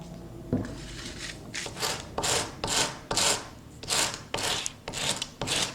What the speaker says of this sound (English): I'm going to sand my stick because it can get very dull